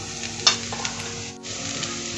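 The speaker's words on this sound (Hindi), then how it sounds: "अब हम इन सबको अच्छे से मिला लेंगे।" Potatoes fry in a pan as turmeric, red chilli and coriander powder are stirred in, a constant close sizzle with a few spoon clinks and scrapes; no talking.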